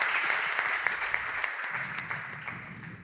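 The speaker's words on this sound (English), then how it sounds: "they're giving lots of applause for our friends here today" A crowd applauds at an esports event at ESL headquarters, a steady wash of clapping heard at a moderate distance without a pause.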